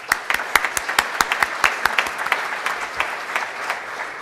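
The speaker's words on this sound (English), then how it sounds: "Let's give all our guests a round of applause." A Rotary club meeting audience applauds its guests, a dense round of handclaps with sharp individual claps standing out near and steady for about four seconds, with no talking over it.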